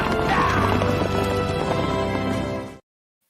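Several horses set off together in a steady run, dense hoof clip-clops with a whinny mixed in, loud and close for nearly three seconds before cutting off abruptly.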